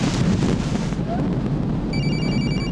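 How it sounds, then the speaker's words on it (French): A telephone starts ringing partway through, a bright repeated ring that sits over a heavy, constant low rumble. "Un téléphone qui sonne."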